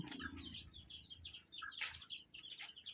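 Small chicks chirping in quick, high, scattered peeps at a backyard with chickens, moderately close, with a low outdoor rumble underneath and no talking.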